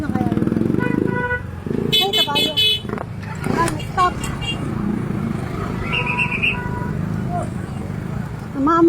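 Motorcycle engine rumbling steadily up close amid busy street traffic in Bulacan, Philippines, on New Year's Eve, with horns tooting and people talking over it.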